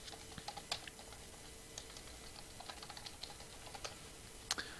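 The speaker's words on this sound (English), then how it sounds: "I'm going to go ahead and type in a quick command here" Steady quiet typing on a computer keyboard enters a command, with soft rapid key clicks and a couple of sharper taps standing out over a faint hum.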